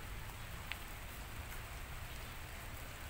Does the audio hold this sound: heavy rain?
yes